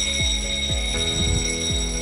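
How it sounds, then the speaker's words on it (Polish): Alarm tone from a REFCO Refmesh device app, a steady electronic signal with stacked sustained tones and repeating falling chirps about every half second, loud and alone. "alarm włączony, cel osiągnięty."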